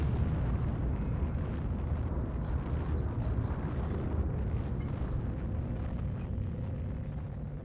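A nuclear bomb detonates in the Civilization V strategy game, a loud, sustained, deep rumbling roar that holds steady for several seconds before easing slightly.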